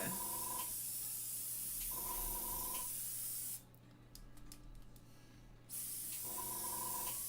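An airbrush sprays onto Pastelmat paper, hissing in sustained bursts, cutting off briefly in the middle before spraying again, close and steady, with a faint tone alongside.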